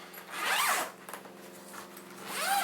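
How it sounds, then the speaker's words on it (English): A zipper on a Warhammer 40K army transport bag is pulled open in two long, loud, rasping strokes, with a shorter zip in between, close up and with no talking. "Zip that open"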